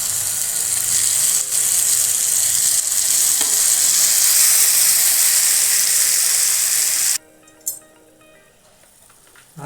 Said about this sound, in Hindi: हम थोड़ी से तेल डाल देंगे इसमें फ्राई पैन में और हम इसमें 2 टमाटर इसको सॉफ्ट होने के लिए रख देंगे